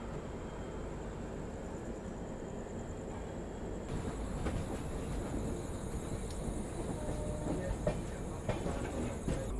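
A steady rumble and rattle fills the inside of the Rajdhani Express as it runs on a diverted route toward Dibrugarh, with continuous rolling noise and a few louder knocks partway through.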